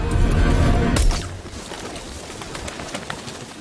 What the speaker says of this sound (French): Ils font semblant de nourrir les oiseaux.